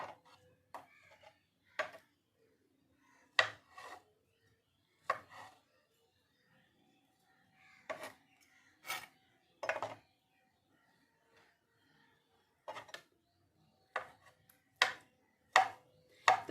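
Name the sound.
chopping potatoes with a knife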